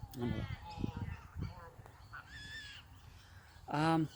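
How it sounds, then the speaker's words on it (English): Several harsh bird calls ring out at intervals, loud and near, with a final strong squawk at the end; a few faint voices sound between them. "there's some sounds of birds"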